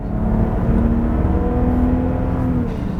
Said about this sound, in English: The 6-cylinder's got plenty of juice, plenty of punch.